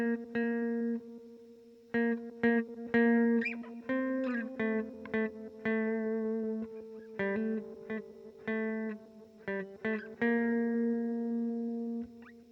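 A clean electric guitar plays a short riff of plucked single notes and small chord stabs through a tremolo auto-panner in Logic Pro X. The notes ring with clear harmonics, separated by brief gaps.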